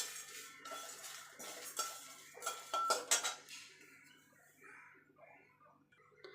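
Spices dry-roasting for mango pickle are stirred in a pan, the spoon scraping and clinking against the metal in a steady, close series of strokes that grows louder and then eases off.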